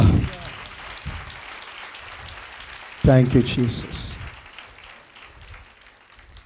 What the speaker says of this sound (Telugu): అందరూ ఒకసారి చప్పట్లు కొట్టి దేవుని కనపరుస్తాం